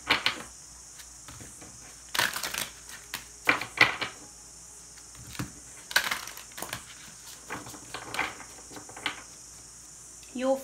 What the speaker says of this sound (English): we'll do a little bit more shuffling